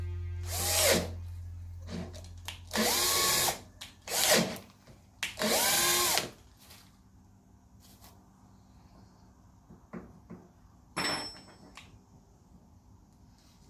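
Cordless power drill driving fixings into a heavy garden door on site, heard as several short loud bursts of whirring with pauses between, followed by quieter clicks and handling noise.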